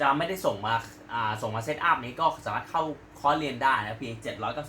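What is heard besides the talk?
No everyday noise stands out behind the speech.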